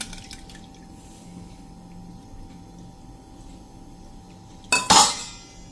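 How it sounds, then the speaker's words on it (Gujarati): A short burst of salted turmeric water splashing and trickling as it is drained from raw mango pieces near the end, after several seconds of quiet room tone with faint clinks. "તો હવે આપણે આ પાણીને નિતારી લેશું"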